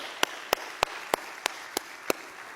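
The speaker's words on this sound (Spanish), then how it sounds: "Dale un fuerte aplauso a Él. Este aplauso es para ti, Señor." A church congregation claps for the Lord, seven sharp claps struck in unison at a steady, even beat against a quiet room.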